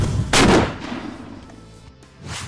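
A single loud gunshot booms close by at a range, fired toward three targets about 20 feet away, its sharp blast decaying into a rumbling tail with no talking.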